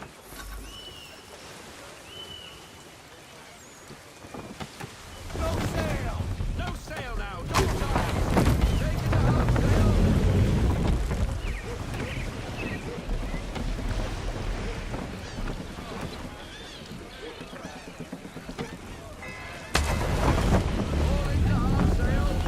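A sailing ship cuts through the sea in Assassin's Creed III, with a steady rush of waves, hull wash and gusting wind that swells louder partway through, heard under occasional talk.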